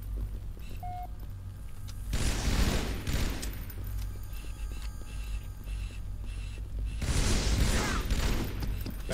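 Halo 2 tournament match gunfire comes in two heavy rapid bursts separated by quieter stretches of lighter shots and mechanical game sounds, loud and close throughout with no talking.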